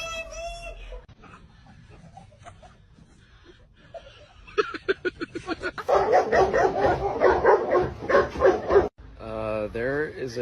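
A dog barks in a quick run of sharp, close yaps that build into a louder burst, mixed with laughter and excited voices.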